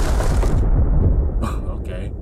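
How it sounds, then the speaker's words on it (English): A cartoonish explosion effect, a sustained loud roaring blast that cuts off abruptly, followed by a couple of short bright bursts as the noise trails away. "let's end with an explosion"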